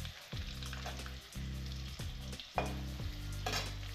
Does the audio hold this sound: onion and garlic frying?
yes